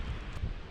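Wind gusts buffet GoPro camera microphones fitted with wind socks outdoors, a steady low roar of rumbling noise close on the mics with no voices.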